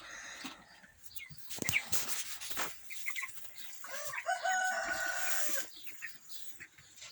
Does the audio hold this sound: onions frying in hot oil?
no